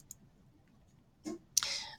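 A single sharp mouse click on a share button, a faint tick near the start, then a brief thump and a longer rustling burst close to the microphone in an otherwise quiet room.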